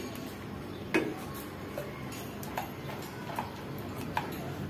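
A spoon stirs a thickening sauce in a pan, making sparse light taps and clinks against the metal over a low background hum, with no talking.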